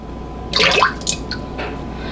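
Half a cup of vegetable oil poured into a large mixing bowl for pumpkin bread, a short close glugging splash followed by a few softer drips.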